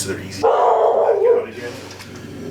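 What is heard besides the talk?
dog barking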